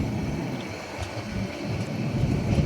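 A steady low rumble of a train passing at Cox's Bazar railway station, continuous and fairly loud, with a faint rhythmic clatter building toward the end.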